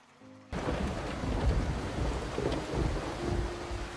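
Rain and thunder from a storm in a video game roleplay set in a lake territory, with a steady heavy downpour that starts suddenly and continues under a low, rolling rumble.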